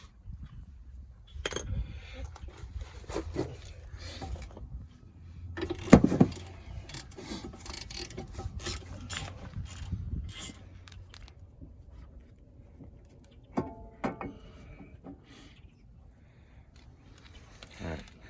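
Brake caliper work on the front of a 2006 Dodge Charger brings scattered, quiet metallic clinks and taps of tools and parts over a low background rumble, with one louder clank near the middle.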